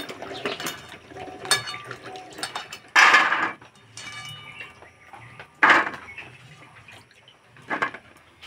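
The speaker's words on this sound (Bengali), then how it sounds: "পরিষ্কার করে ধুয়ে নেব।" Hog plums washed in water, with splashing bursts, water sloshing and clinks of fruit against a container in uneven bouts, close up, with light background sounds between.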